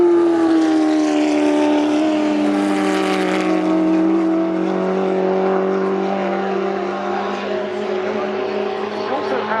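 A mid-1960s Lotus sports racing prototype with a 4.7-litre Ford V8 at a Goodwood race: steady, loud engine drone with harmonic tones that rise slightly and then hold, close by throughout.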